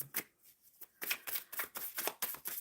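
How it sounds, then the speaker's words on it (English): A deck of tarot cards is riffled and cut again and again, crisp papery bursts coming in an uneven rhythm close up, with short pauses between shuffles and no talking. "So I'm shuffling for Aaliyah Lee's energy with Kevin."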